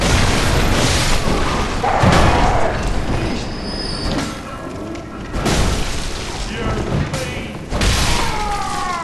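Enemy gunfire aimed at the player in the video game Bloodborne, heard as repeated booming shots and blasts over a dense, loud game soundscape with a continuous rumble.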